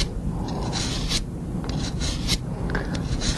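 A curved pruner blade drawn across a DMT diamond sharpener, giving a series of short, close scraping strokes in an even rhythm, alone with no voices.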